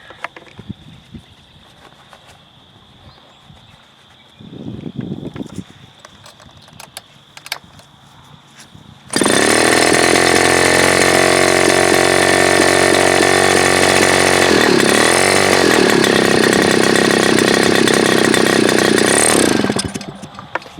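Super Tigre G4500 glow-fuel model airplane engine on its first run, heard after a few faint knocks and a quieter stretch, then roaring loudly and steadily at close range for about ten seconds before cutting back, with no voices.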